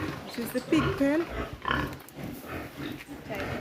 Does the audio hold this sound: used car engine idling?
no